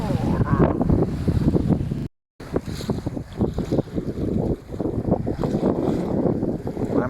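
A small fishing boat moves through the water in a light breeze, a close rushing wash of water and wind with choppy surges, briefly cut to silence about two seconds in.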